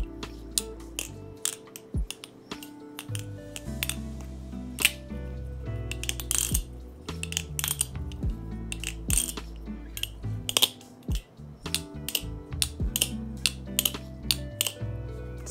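Rapid metallic clicks, rattles and clacks from a Baliplus Triton V2 balisong trainer being flipped, irregular bursts close up with brief ringing tones and short pauses.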